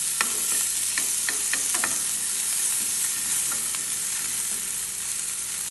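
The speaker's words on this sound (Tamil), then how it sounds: "லைட்டாக வதங்கினா போதும்" Grated coconut and green chilies sautéing in a hot pan, a steady bright sizzle with a few sharp spatula scrapes near the start, then a continuous even hiss.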